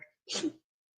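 A single short sneeze, close and fairly soft, followed by silence.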